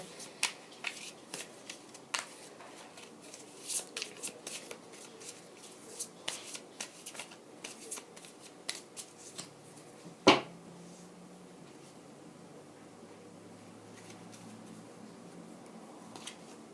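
Tarot cards are shuffled by hand during a reading, a close series of soft riffling flutters and taps, then one sharp snap or knock followed by quieter handling, with no talk.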